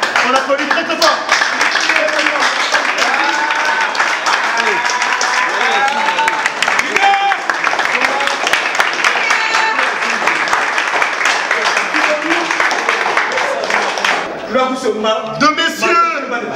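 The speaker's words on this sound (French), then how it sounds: "on applaudit très très fort" A crowd at an association event claps loudly for members of an electoral commission, sustained heavy applause under a voice speaking over it, easing slightly near the end.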